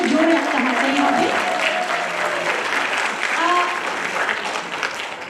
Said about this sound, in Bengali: সবার জন্য আসলে জোরে একটা হাততালি হবে।